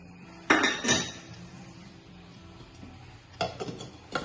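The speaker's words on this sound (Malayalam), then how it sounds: "മൂടി വെച്ച് കൊടുക്കാവേ." Metal pot of cassava in boiling water being covered with its lid: two clusters of clinks and clatter close by, separated by a quiet pause.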